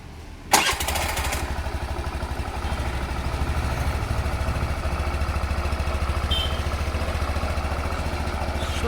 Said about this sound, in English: Now let's listen to the exhaust note.